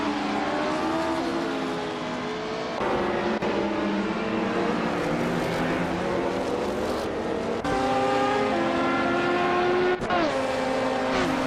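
A 1977 BMW 320 E21 Turbo in a racing video game, its engine droning loudly and steadily at high revs, with pitch dips at gear shifts and other race cars blending in the background.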